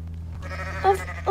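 Short goat bleats from the video game Goat Simulator, two brief nasal calls near the end over a low, steady game hum.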